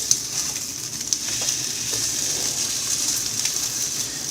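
Matzo brei fries in a pan while the pieces are flipped, making a steady, close hiss of sizzling oil. A few soft knocks from the turning break through the sizzle.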